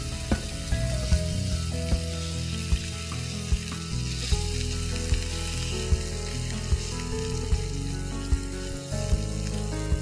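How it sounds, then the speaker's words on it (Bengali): Fish slipped one by one into hot refined oil fry with a loud, dense, continuous sizzle and crackle, punctuated by small regular pops and ticks, close up and with no speech. "তেল গরম হয়ে যাওয়ার পরে একটা একটা করে মাছ আমি ছেড়ে দেবো।"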